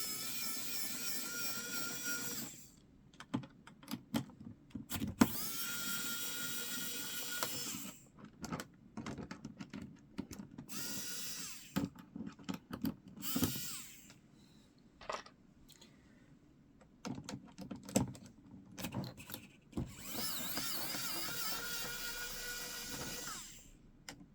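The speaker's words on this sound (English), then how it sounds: "So my trusty screwdriver." Small, close bursts of a powered screwdriver whirring as brackets come off a PC motherboard, several separate runs broken by quiet pauses and faint handling clicks, with no speech.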